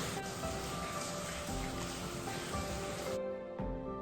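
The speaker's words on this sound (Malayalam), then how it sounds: "ഈ സമയത്ത് പുറത്ത് നല്ല മഴ പെയ്തുകൊണ്ടിരിക്കുക കേട്ടോ." Rain falls steadily outside, a soft, even hiss heard from indoors that stays faint and constant before cutting off near the end.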